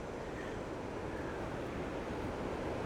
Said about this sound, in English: So here's a shot of the last of the waterfalls that you can see from this point here